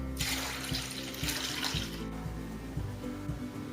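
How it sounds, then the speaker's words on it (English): Water pours steadily from a tap into a tamarind mixture for pani puri. A continuous splashing rush runs throughout with a faint low hum underneath, and there is no talk. "To this, I am going to add about 4 to 5 glasses of water."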